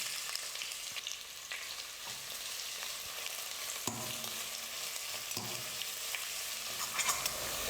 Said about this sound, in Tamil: இப்போ வெங்காயத்தையும் சேர்த்துக்கிறேன்.